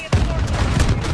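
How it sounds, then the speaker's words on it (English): An RPG-7 rocket explosion in a video game: a single heavy boom that then rumbles on as a dense blast tail through the short clip, with someone talking over it. "Ah, RPG, kaboom, nice."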